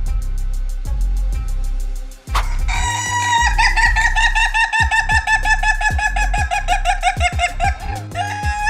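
A small serama chicken clucks in sharp repeated pulses, then lets out a long, loud crow with rapid clucking around it, close by with no talking.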